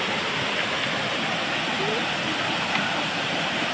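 Maharas Falls, a waterfall in Matuguinao, Samar, Philippines, roars as a steady, dense broadband rush of falling water, loud and close throughout with no letup.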